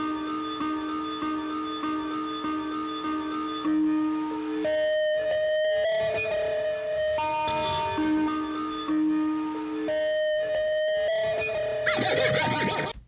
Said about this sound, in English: there is this kind of guitar feedback